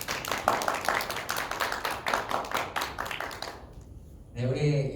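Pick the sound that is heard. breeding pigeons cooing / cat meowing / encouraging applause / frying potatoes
encouraging applause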